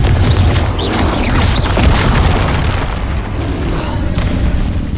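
In the video game Hogwarts Legacy, a Confringo spell detonates with a loud, heavy boom that rolls on as a sustained rumble with crackling debris, dense and near throughout.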